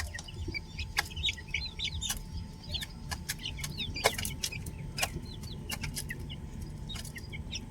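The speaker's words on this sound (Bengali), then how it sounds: "কত ছোট ছোট মুরগিগুলো কিনেছিলাম, সবগুলো কিন্তু বড় হয়ে গেছে।" A flock of grown chickens, raised at home from small chicks, clucks and chatters steadily at a moderate distance, with sharp clicking knocks cutting in now and then.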